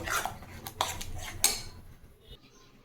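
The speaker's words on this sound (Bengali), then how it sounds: "এটা আমি কড়াইটা চাপিয়ে দিলাম গ্যাসের মধ্যে এটাকে এবার আমি নাড়ব" A metal spoon scrapes and clinks against a kadai wok on a gas stove, a few sharp knocks in quick succession, fairly close, then quieter as the stirring settles.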